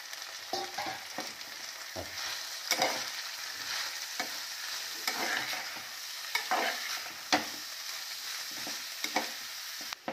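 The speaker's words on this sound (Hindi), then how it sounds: "देखो जी, अच्छी तरह इन्हें मिक्स करांगे।" Grated carrots and cream stirred in a pressure cooker for sweet carrot rice, a repeated scraping stir over a soft sizzle, close and fairly quiet, with no voices.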